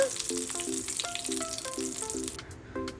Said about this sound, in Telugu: కరివేపాకు కూడా ఫ్రై అయిన తర్వాత